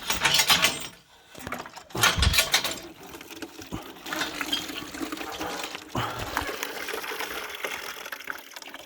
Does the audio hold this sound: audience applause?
no